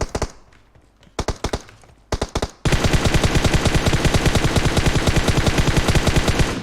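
Gunfire in the video game PUBG Mobile: a few short bursts separated by gaps, then a long, loud, rapid automatic stream of shots.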